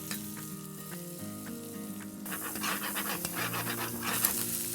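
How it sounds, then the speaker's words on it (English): A pan of sweet potato hash sizzles and crackles as sherry vinegar hits it for deglazing, starting quietly and flaring into a louder, steady fry that is close and heard alone. "we're gonna deglaze the whole thing with a little bit of sherry vinegar"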